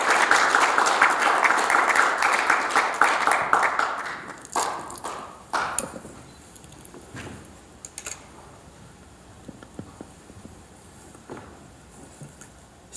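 Audience applause at a university inauguration thanksgiving service fills the hall loudly for about four seconds, then thins into scattered individual claps that die away.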